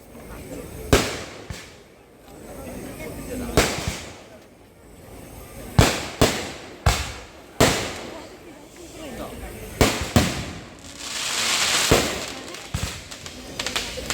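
Firecrackers burst in a series of sharp, loud bangs at irregular intervals near a church, with a crackling hiss between them and voices in the background.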